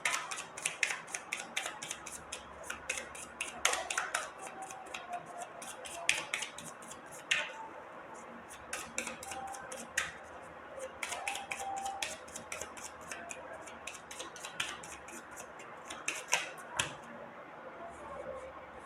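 Tarot cards are drawn and handled close by, with frequent light snaps, flicks and papery rustles scattered through the stretch. Soft speech can be heard in places.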